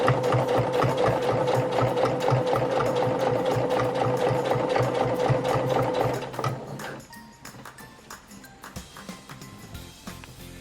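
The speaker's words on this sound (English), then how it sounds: "sewing down the middle." A sewing machine stitches down the middle of replacement elastic for a Lalabye Baby cloth diaper, running in a steady, rapid, loud mechanical rhythm for about six seconds before stopping, leaving quieter handling clatter.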